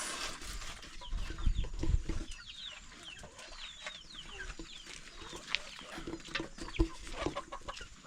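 Chickens cluck and chirp around a newly built chicken house in an African village, with a continuous chatter of faint, overlapping bird calls and occasional louder clucks against an outdoor background.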